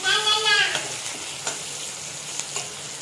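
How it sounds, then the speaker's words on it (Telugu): Chicken liver and gizzard frying with onion in hot oil, a steady close sizzle with stirring scrapes and a few sharp pops, the pan loudest at the start and then settling into a continuous frying hiss. "ఫ్రై చేసుకుందాం వీటిని కొంచెం గోల్డెన్ బ్రౌన్ కలర్ వస్తుంది"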